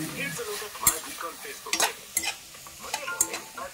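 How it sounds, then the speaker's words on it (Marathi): Karkula vegetable sautés with turmeric in a pan, a soft steady sizzle broken by several sharp scraping stirs of a spoon against the pan, close and without talk. "आता याला हलवून घेतलं आणि आता याला परतू द्यायचं थोडं, जेणेकरून ते नरम होते."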